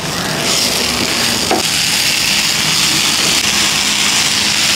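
Mint leaves and coconut stirred and sautéed in a pan, a steady close sizzle of frying with a low hum and brief scraping stirs throughout, no talking.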